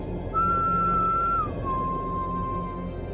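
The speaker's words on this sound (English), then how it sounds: "And that whistling. Why the whistling?" A mysterious whistle in a Doctor Who drama scene: one clear, steady tone that holds, then slides down slightly and sustains at the lower pitch, alone over a quiet low rumble.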